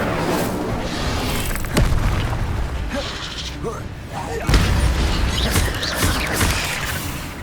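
Incendio fire spell cast in Hogwarts Legacy, a loud fiery whoosh with booming bursts amid a dense, continuous stream of game effects and mechanisms, with voice lines heard over it.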